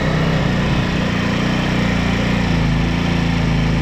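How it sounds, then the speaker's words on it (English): A brand-new Chinese scooter engine idles steadily after warming up, a loud, close, even low putter that runs without a break and without talk. "Now it warmed up. You can turn that idle back down."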